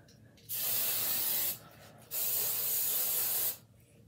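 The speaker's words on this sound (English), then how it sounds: "So I'm putting some Suave Extreme Hold hairspray." Two long bursts of Suave Extreme Hold aerosol hairspray hiss out close by, each lasting about a second, separated by a brief gap.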